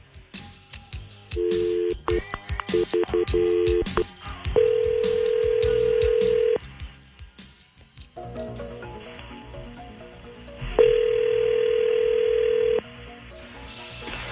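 A telephone call being placed: bursts of dialing tones come first, then long steady ringback tones with a pause between them, loud and close with no speech.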